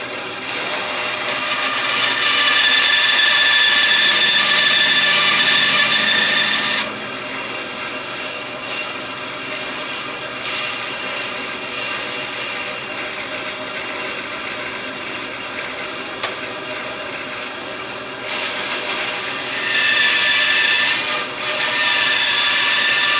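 A miter saw cuts through a wood workpiece in a woodworking shop, a loud, steady whining buzz that holds for about seven seconds, drops to a lower, rougher grind, then rises again near the end, with no voices.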